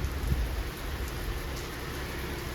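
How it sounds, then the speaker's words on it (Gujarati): Steady heavy monsoon rain, the season's first, pouring down in Vanod without a break, a dense continuous hiss of drops drumming on surfaces close by. "ફૂલ વરસાદ ચાલુ થઈ ગયો છે"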